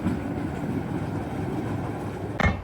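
A train pulling away on a London rail line gives a steady low rumble and rolling noise, with a sharp clank near the end.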